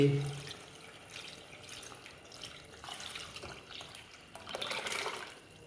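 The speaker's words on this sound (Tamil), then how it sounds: "நம்ம அரிசிக்கு தேவையான தண்ணியை நான் இதில் கலந்து வச்சுருக்கேன் இப்போ இதை ஊற்றி" A mixture of water and mutton stock is poured into a pot for mutton biryani rice, a faint, steady splashing and trickle that swells toward the end, with no talk.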